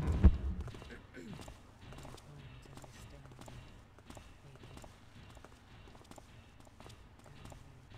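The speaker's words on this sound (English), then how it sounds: "I can hear a double footstep." A guard's footsteps in the stealth game Thief 2: The Metal Age, a paced series of faint, doubled steps over quiet ambience, after a brief thump at the start.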